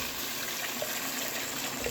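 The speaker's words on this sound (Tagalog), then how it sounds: "Lagyan na natin ng tubig" Water pours into a cooking pot holding chicken for pinikpikan, a soft, steady splashing rush lasting a couple of seconds with no voices.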